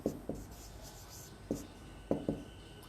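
A pen writes on paper during an accounting lesson, making a few faint, scratchy strokes in short bursts at an uneven pace against a quiet room, with no speech.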